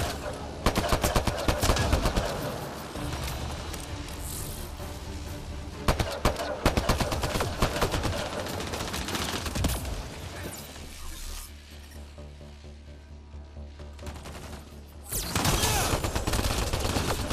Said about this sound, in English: Oh, fuck, he's got a minigun.